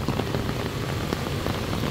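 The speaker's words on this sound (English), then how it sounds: "now it started to rain really hard" Heavy rain pours steadily onto a New York street along Central Park West, a dense, loud, continuous hiss with scattered drop impacts.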